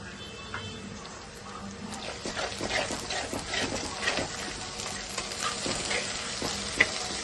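Onions softening in a pan with rock salt for a fish curry give a continuous close sizzle and crackle, with stirring scrapes and a sharp clink near the end.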